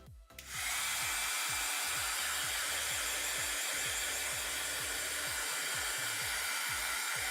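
A hair dryer switches on and runs as a loud, steady whooshing drone while drying a cloth bandana, with a faint repeating low thumping beneath it and no speech.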